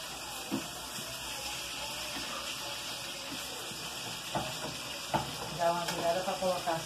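Beef liver frying in a pan, a steady soft sizzle with a few clinks and scrapes as the liver is turned, fairly close.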